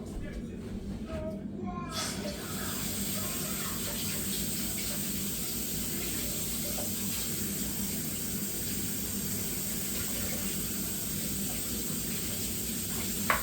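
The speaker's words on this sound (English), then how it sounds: "I'm gonna let you do that while I wash my hands." Tap water runs steadily into a kitchen sink as hands are washed during Irish soda bread baking, a continuous rushing wash with faint clatter near the start.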